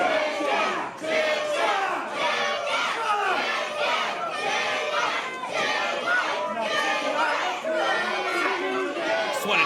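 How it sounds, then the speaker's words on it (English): A wrestling crowd at an independent ETWA show at an Elks lodge chants loudly and steadily, a dense wall of many voices shouting in rhythm throughout. "Just want to dip out so you can all hear the crowd chanting."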